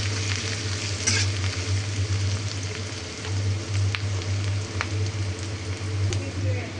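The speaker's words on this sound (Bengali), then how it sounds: "হালকা একটু ভেজে নেব।" Onion, garlic and green chillies sizzle steadily in a pan of hot oil, a continuous close frying hiss with a low hum beneath and faint talk in the background.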